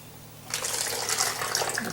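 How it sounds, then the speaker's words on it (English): About a quarter cup of water poured through a funnel into a small bottle, starting abruptly as a close, bright splashing trickle that continues steadily. "pour it into the bottle"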